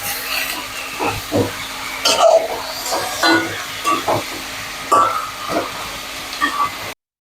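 Mutton pieces and chopped onion hit hot oil in a pan for a Bengali mutton curry, with a hissing sizzle broken by repeated clanks and scrapes of a ladle, close and fairly loud.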